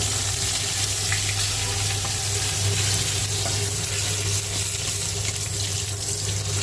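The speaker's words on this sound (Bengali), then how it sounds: "তারপরে পেঁয়াজটা দিয়ে দিলাম। পেঁয়াজটা ভাজা হবে।" Garlic and onion hit hot oil with bay leaf, giving a steady, dense sizzling hiss that stays loud and even throughout, with no voices.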